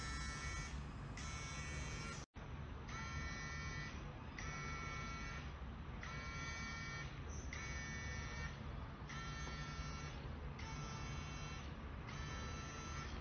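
A Skin Beam facial device set to its facial mode with vibration and heat switched on buzzes close by in regular pulses, about two each second, with one brief dropout near the start.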